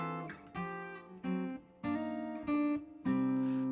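Fingerstyle acoustic guitar playing Jesus Loves Me with a walking bass line, sustained plucked chords and moving low notes in a slow, separated sequence, close and solo.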